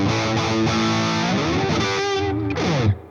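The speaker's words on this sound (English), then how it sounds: "I can get into the treble pickup here, and you can definitely hear a lot of great harmonics coming out." A distorted electric guitar lead on a Gretsch G5230T Electromatic Jet's treble pickup plays sustained, bending notes with a bright, biting tone and rich harmonics, loud and close, fading out at the end.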